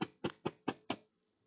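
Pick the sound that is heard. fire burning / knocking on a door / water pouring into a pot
knocking on a door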